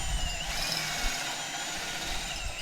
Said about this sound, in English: Just easy to get the drill bit through being so thick.